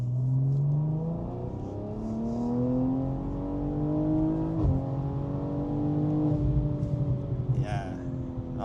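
A stage 2 tuned BMW G42 M240i xDrive accelerating hard on a damp road, its engine note rising steadily through the revs, loud and sustained, with a brief shift or crackle midway and no voices over it.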